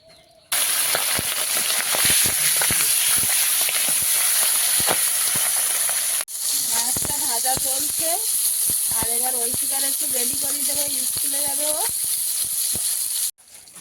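Fish rubbed with salt and turmeric hits hot oil in a kadai with a sudden loud hiss, then a steady fierce sizzle continues while someone talks over it.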